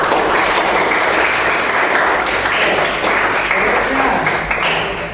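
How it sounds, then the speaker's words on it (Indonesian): Audience applause in a classroom or hall, loud dense clapping from many hands that holds steady and then tapers slightly at the end, with voices mixed underneath. "Tepuk tangan buat dia."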